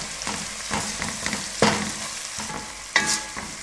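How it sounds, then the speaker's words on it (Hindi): Chana dal masala stirred in a sizzling pan, with repeated spoon scrapes and a few sharper metallic knocks over a continuous close fry, and no voices. "अब इसको हम अच्छे से मिक्स करेंगे।"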